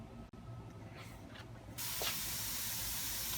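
A spray bottle mists water onto microgreen grow mats, giving a steady close hiss that starts partway in and keeps going without a break.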